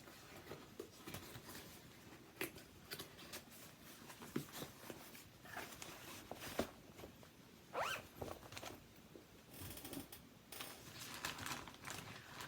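A Ziploc plastic bag full of multiple fabrics is opened and handled, producing repeated sharp zipper-like rips of the seal and soft crinkles in irregular bursts, close and quiet with no talking.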